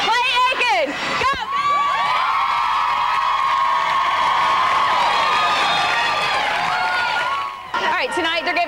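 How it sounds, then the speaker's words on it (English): UNC Charlotte students cheer for Clay Aiken, a loud, sustained crowd roar of screams and whoops that swells for several seconds. A brief shout comes near the start, and the cheering fades out at the end. "here I am tonight at UNC Charlotte with all of the students cheering on Clay Aiken"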